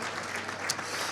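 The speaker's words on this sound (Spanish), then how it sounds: "Denle un aplauso al Señor" Church congregation clapping during a Spanish-language worship service, a brief, fairly soft burst of steady applause from the room.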